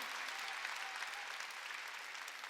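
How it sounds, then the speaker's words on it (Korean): Applause from a church congregation at a Wednesday worship service, a steady, dense wash of many hands clapping continuously throughout, fairly distant and even in level, with no talk over it. "박수로 하나님께 영광을 돌려야죠."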